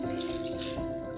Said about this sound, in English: So I'm going to fill this up with some bottled spring water.